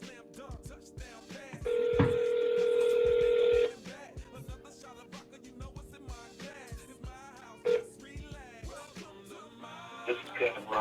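An outgoing phone call plays through a speaker with a steady ringback tone of about two seconds, a few softer tones, then a voicemail greeting. Voices are heard.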